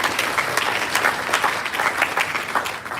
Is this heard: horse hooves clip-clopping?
no